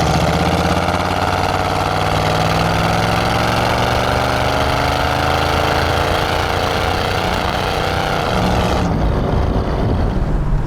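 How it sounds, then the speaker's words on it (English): A 1967 Ford Mustang GTA's 390 cubic inch big block V8 roars at full throttle, its pitch climbing steadily as it revs up, loud and continuous, then dropping off near the end. "But you want to know what it sounds under full throttle, don't you?"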